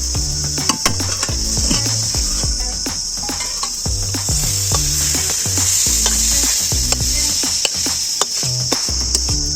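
Leafy greens fry in a pan with onion, black cumin and chilli, giving a loud, constant hiss with frequent metallic scraping and clattering from stirring close by.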